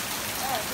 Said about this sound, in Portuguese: Olha a chuva aí.